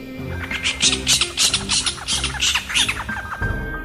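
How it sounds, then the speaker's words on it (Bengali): An owl calls loudly from a chhatim tree on a moonlit night in a sleeping village, a series of about eight harsh, squawking cries in quick rhythm, close and prominent with no talk. "ছাতিম গাছটা থেকে একটা হুতুম পেঁচা জোরে ডেকে ওঠে।"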